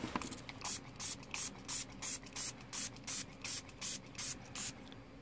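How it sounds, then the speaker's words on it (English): A spray bottle of alcohol hisses in a steady series of about ten short bursts onto inkjet printer ink, evenly paced and close up, with no voices. "Let's see what happens if we spray some alcohol on it"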